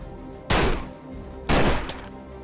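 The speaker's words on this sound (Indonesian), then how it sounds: "Saat melihat senjata-senjatanya, Tick dan timnya menembak mati anggota Aira." Two loud bursts of gunfire from an action film scene where a crew shoots down rival gang members, each blast a sharp broadband crack with a short decay, about a second apart over a low background score.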